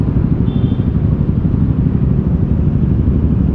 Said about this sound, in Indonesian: Banyak motor ya.